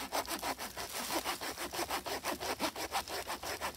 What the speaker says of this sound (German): So, zuerst mit der Säge. Ne? Mhm. Mit der Klappsäge.